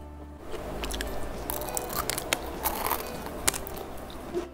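Crispy Milo crepe, a lacy net-style pastry, crunches between the teeth in close, steady bites and chewing, with small crackles and a few sharper snaps and no talking over it.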